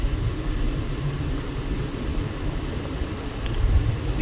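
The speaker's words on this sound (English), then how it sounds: "some traffic noise right up here against" Steady traffic rumble from a four-lane road lined with homes, a continuous low wash of passing vehicles heard at moderate distance with no talk.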